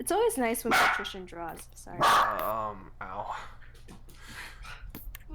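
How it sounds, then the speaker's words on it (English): Coco, a pet dog, lets out several excited, sharp barks and yips close by in a home, coming in quick bursts while a person talks over and between them. "That was my dog. She gets excited sometimes."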